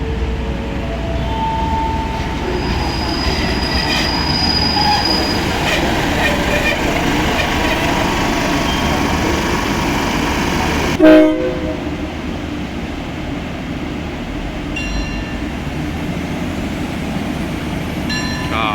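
A Daewoo diesel railcar set running as train 383 pulls out of Makkasan station, giving a continuous loud rumbling engine drone with rail noise, one brief sharp clank midway, and a voice talking over it.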